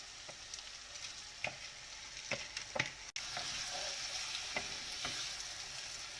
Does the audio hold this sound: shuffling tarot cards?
no